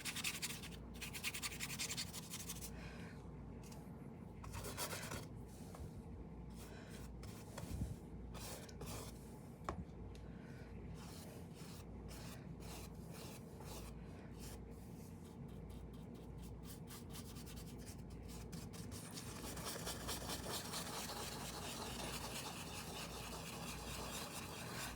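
Soft brush or sponge rubbing and smoothing paint on a canvas for a birch forest painting, close and quiet, continuous scrubbing strokes with occasional light taps, no talking.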